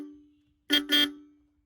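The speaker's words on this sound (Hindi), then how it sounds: "अगली चीज़ पे आते हैं जो कि है अपनी हॉर्न" Two short, loud honks from the aftermarket horn of a Royal Enfield Classic Reborn 350 motorcycle in quick succession, the first clipped and the second slightly longer, with a faint tone fading out before them.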